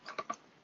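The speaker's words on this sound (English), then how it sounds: "and then I'll start typing" A few light, quick key clicks from typing on a computer keyboard, faint and close, with short gaps between the taps.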